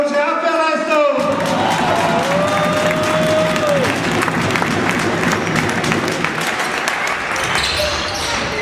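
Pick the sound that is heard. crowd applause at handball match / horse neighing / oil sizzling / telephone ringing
crowd applause at handball match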